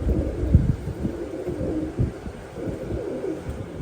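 Low, soft pigeon coos murmur repeatedly in the background, a steady throaty rumble with no talking.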